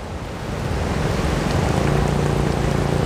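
Ocean waves surge and break around a small fishing boat at sea, a steady loud wash of surf with wind buffeting the microphone throughout.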